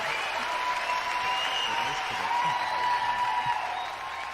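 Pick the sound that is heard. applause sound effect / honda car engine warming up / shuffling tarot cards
applause sound effect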